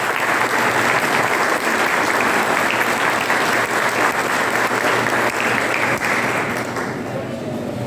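Sustained, dense applause from an audience at the launch of the book "Memórias da Minha Terra" in Boa Viagem, steady and loud for several seconds before easing slightly at the end.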